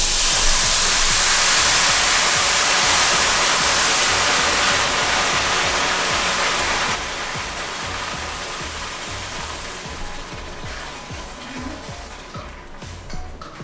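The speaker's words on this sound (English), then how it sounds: "we're going to go ahead and add our water in" A loud, steady hissing roar of water poured into a hot pan of Mexican-style rice, sizzling and steaming continuously, easing slightly halfway through.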